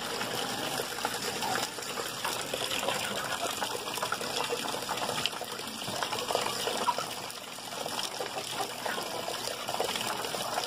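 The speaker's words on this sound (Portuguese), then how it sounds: "Calma, vou só trocar essa água." Water is poured and changed for chickens in a backyard coop, a continuous close gushing and trickling stream running steadily for around ten seconds.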